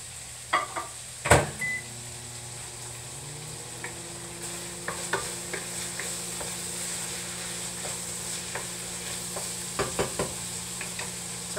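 Beef and onions fry quietly in a pan with a soft, steady sizzle. Sharp scraping clicks from stirring break through now and then, and there is no talking.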